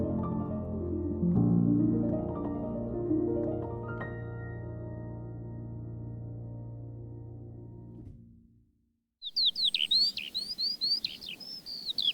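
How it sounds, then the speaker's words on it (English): A blackbird sings a run of clear, whistling chirps after a fading musical chord, close and fairly loud in a quiet outdoor setting. "Can you hear that blackbird singing?"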